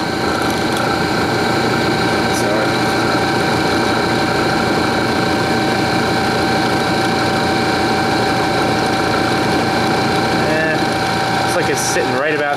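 An antique Imperial electric dynamo runs steadily at about 1700 RPM while generating voltage, giving a continuous mechanical whir and hum with a faint ticking rattle from its brushes and bearings.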